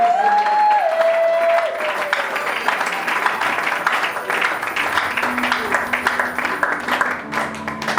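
A church congregation claps and cheers in praise, a loud wash of applause that follows a sung tone at the start, with voices mixed into the crowd noise.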